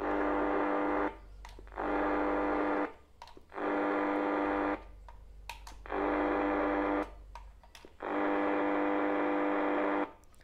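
An electrical noise meter plugged into a wall socket emits loud bursts of mains-interference hum, about five long buzzing blocks separated by short gaps with faint clicks, and nobody speaks.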